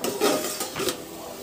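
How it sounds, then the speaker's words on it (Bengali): A lid comes off a pot of simmering Bathua greens, making a couple of brief metallic clanks and scrapes up close, followed by a quieter rattle. No speech. "চলো ঢাকাটা খুলে ফেলি"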